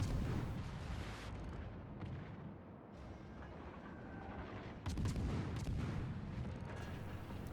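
Naval gunfire from an enemy destroyer in World of Warships, with heavy booming shell impacts and blasts rolling over a rumbling background, a fresh loud burst arriving near the five-second mark.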